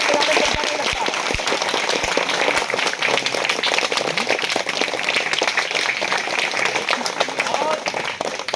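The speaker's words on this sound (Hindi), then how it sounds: "ताली बजाइए" Dense applause from a crowd at a rural Hindi-speaking political gathering in Atraulia, Azamgarh, steady throughout with a few sharp claps standing out near the start.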